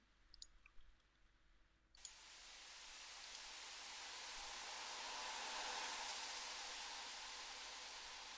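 After a couple of faint clicks, a white noise synth transition in a progressive house track swells in and slowly builds louder, sustaining as a rising sweep.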